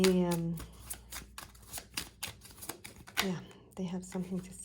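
Gypsy oracle cards being shuffled by hand in a rapid series of crisp riffling snaps and flicks, close and fairly quiet, with brief bits of voice between the shuffles.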